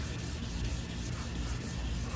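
Wet sanding the paint of a 1986 Chevrolet Monte Carlo SS, a close, steady rubbing and scraping of abrasive paper over the wet body panel, with rhythmic back-and-forth strokes and no talking.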